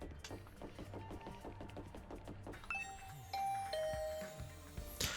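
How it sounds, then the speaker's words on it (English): A doorbell in the video game The Hundred Line: Last Defense Academy rings out as a bright chime tone, preceded by rhythmic electronic game music and soft thuds, with no talking. "Ring the doorbell to Tsubasa's room"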